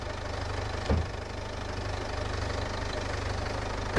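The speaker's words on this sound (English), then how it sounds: "the spring is actually wearing into the bodywork at the top there where the bearing is missing" Worn front suspension spring on a car with a missing top bearing, knocking against the bodywork: a steady idling engine rumble carries a single distinct knock near the start, heard close up with no talking.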